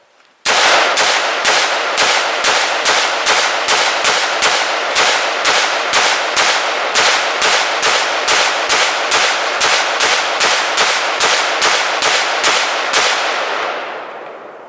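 A rifle fires about thirty rounds of 5.56 full metal jacket ammunition at a ballistic barrier on a range, in loud, evenly spaced single shots that echo sharply for roughly thirteen seconds, with no talk.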